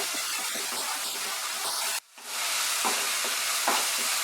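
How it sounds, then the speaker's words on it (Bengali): Tilapia masala cooking over high flame in a pan, with a steady bright hiss of frying and a few soft scrapes of stirring, broken by a brief near-silent gap partway through. "তবে এবার কিন্তু হাই ফ্লেমে আমি কষাচ্ছি, তাই আমাকে কন্টিনিউ নাড়তে হবে।"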